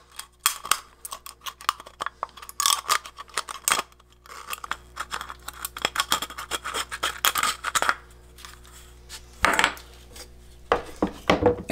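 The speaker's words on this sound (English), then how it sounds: "So try and cut it as straight as you can on that line." Scissors snip through a thin aluminum drink can along a marked line, giving a run of sharp metallic crunches and scraping cuts in irregular bursts, close and fairly loud, with no talking.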